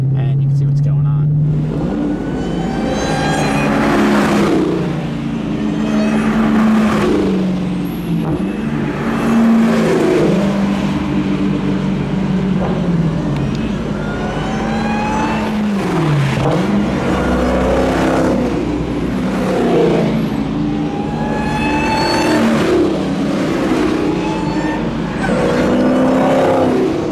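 A Formula 4 race car laps a track at a racing school, its engine rising and falling through repeated revs and downshifts, loud and continuous, with a voice talking over it throughout.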